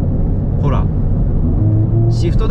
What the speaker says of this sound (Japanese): ほらシフトダウンした時のこの音